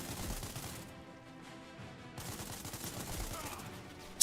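Gunfire in the space combat game Spacebourne 2, heard as dense bursts of rapid shots and explosive rumble that drop away briefly midway, then resume, with a sharp hit at the very end.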